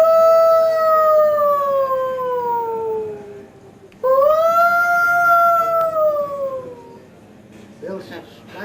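A voice imitates a dingo howling: two long wavering howls that slide downward, loud and close, followed by a short quiet pause.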